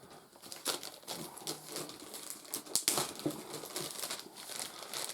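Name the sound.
unwrapping a big pile of Dungeon Saga cards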